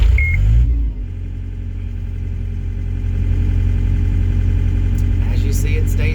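A John Deere 317 skid-steer engine cranks briefly, then catches and settles into a steady, loud, close diesel idle that runs on without dying.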